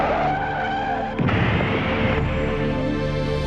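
A motorbike skids and crashes on a road, a loud continuous tyre screech and engine roar with a sharp impact burst about a second in, followed by sustained scraping noise.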